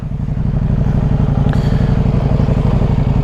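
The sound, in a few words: motorcycle riding on wet road with Michelin Road 6 tires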